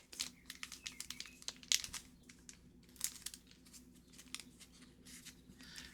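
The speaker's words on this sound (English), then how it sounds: "Cut this tops off of this box." The top of a cardboard trading card hobby box is cut away, giving a run of close, quiet crinkling, snipping and tearing noises in uneven bursts.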